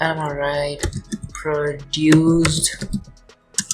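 Brief computer keyboard clicks from typing text in Photoshop fall in the gaps of a man's close, continuous talking.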